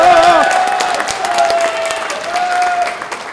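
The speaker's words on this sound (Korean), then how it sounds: "제 말에 동의하시면 박수 한번 부탁드리겠습니다" Delegates at a political party convention and joint campaign rally clap loudly, a full crowd of applause with some cheering and voices mixed in, sustained for a few seconds.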